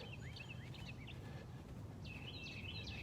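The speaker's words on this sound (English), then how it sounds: "You might be able to hear those birds chirping." Birds chirp faintly in the morning outdoors, thin scattered high calls in two short bursts set against a steady low rumble of background noise.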